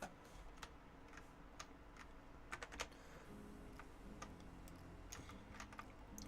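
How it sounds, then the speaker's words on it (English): Rapid clicking of keys on a computer keyboard while editing trading cards, irregular bursts of close taps, alone without speech. "I actually forgot to type something in here."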